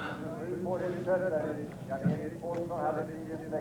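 Horses trotting with a steady clip-clop of hooves in a carriage driving competition at the 1990 World Equestrian Games in Stockholm, heard under continuous commentary.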